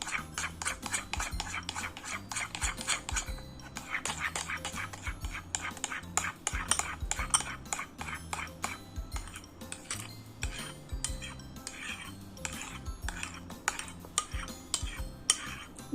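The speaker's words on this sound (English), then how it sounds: "Now we have to mix it like super nicely." Clear glue slime with hand soap and baking soda being stirred, giving a steady run of wet, sticky scraping and clicking close by, with soft faint murmuring underneath.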